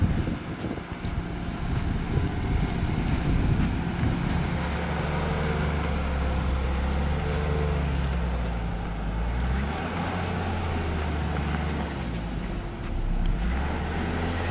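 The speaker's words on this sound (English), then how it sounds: "The Land Rover reaches the first obstacle, stops with the front right wheel raised high, and without any hint of slipping, confidently continues driving" Land Rover Defender with a 3-liter turbo gasoline engine, air suspension raised and stock Goodyear Adventure tires, rumbling off-road in a steady loud drone whose pitch rises and falls as the engine works over an obstacle.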